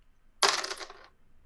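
Dice tossed during a tabletop role-playing game land in one sharp clattering burst that rattles briefly and fades within about half a second, close and alone with no talk.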